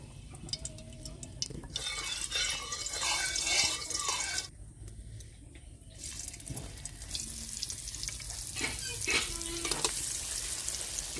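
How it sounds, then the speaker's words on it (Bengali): Dhoka lentil cakes for an ol (elephant yam) dhokar dalna fry in mustard oil, a steady close sizzle with splashy, watery bursts and occasional scraping as pieces are turned, with no voices. "একে একে আমি সব ধোকাগুলো ভেজে নেব"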